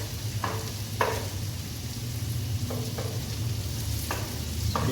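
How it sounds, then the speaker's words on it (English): Chopped garlic and onions fry in butter and olive oil for a soup, a steady close sizzle with a few brief stirring scrapes breaking through the hiss. "now we have added the chopped garlic. So while it gets fried, we are also adding our chopped onions here."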